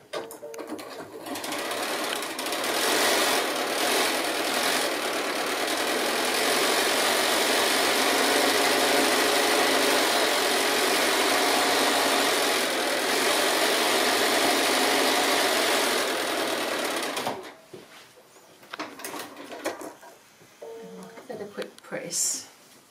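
Sewing machine running steadily for about fifteen seconds as it stitches a strip of quilt fabric over batting, a loud continuous whir, then stopping while a person talks quietly over handling noises.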